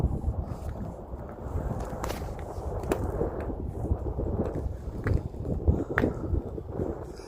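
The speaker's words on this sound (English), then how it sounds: "It is quite windy today." Gusty wind buffets the microphone in a continuous rumbling roar, with occasional louder thumps as gusts hit.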